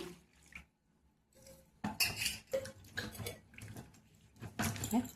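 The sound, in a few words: washing vegetables in a bowl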